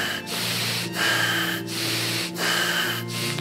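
Deep, rapid, rasping breaths drawn in a meditation breathing exercise, with about four noisy inhale-exhale cycles in steady rhythm, close and fairly loud, with no talk.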